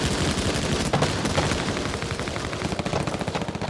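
Machine gun fire during the Normandy beach landing: dense, continuous rapid bursts of automatic gunfire, loud and close, forming an unbroken rattling barrage that grows into sharper distinct rounds toward the end, with no voices.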